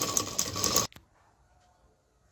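A sewing machine stitches a saree-style gown in a short, fast mechanical whirring run lasting under a second, then stops, leaving near silence with a faint click before another brief start at the end.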